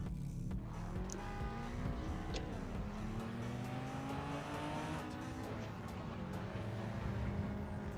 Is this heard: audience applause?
no